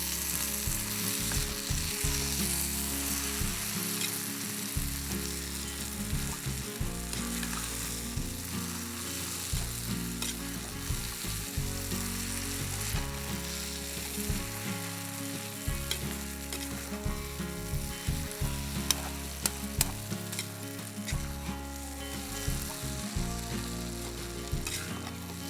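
Savorit vermicelli biryani cooking in a pot, a continuous dense sizzling and bubbling texture with a low rhythmic rumble underneath, steady and close throughout.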